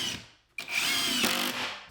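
Power drill driving a 2-inch screw into interior window trim in a workshop build, a short pause followed by one loud, close whirring burst as the screw sinks in.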